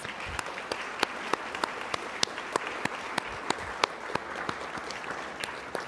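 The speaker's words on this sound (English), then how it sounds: "So let's give them all a big round of applause." Applause from a live audience for three panelists at a public forum on rising Ohio property taxes, a steady dense wash of many hands clapping with a few sharper claps standing out, moderately near and continuous throughout.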